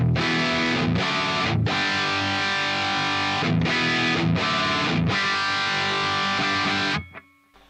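A heavily distorted electric guitar played through an Amped ML Plexi amp, recorded with a 57 microphone on a vintage speaker and a 421 on a modern green speaker, blended together. Thick sustained chords ring loud and alone in several long strummed phrases, then cut off.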